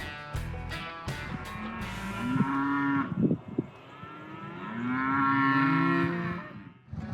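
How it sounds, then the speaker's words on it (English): Cattle bellowing as they are rounded up into small pens, with long rising moos from more than one animal, close and loud, after a few sharp knocks at the start. "we're just rounding up the cattle and trying to get them into these little pens"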